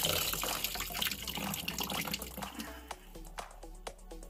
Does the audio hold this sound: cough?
no